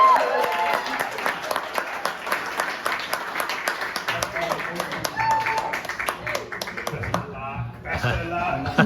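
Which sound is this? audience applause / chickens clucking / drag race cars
audience applause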